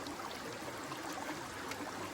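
A small river runs along the GR20 in Corsica, its water making a constant, close hiss and babble, unbroken and alone with no one speaking.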